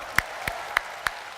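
An audience at a university talk-show taping gives five evenly spaced, sharp claps, each about a third of a second apart and fairly close, with nothing else heard.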